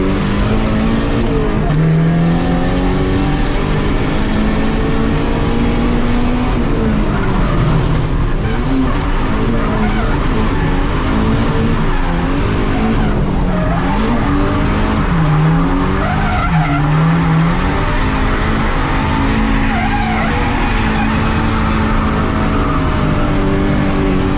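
Drift cars, including a Nissan 370Z and a CA-powered 180SX, skid through a competition run with sustained loud tire squeal, howling revving engines and shifting pitch throughout, no talk.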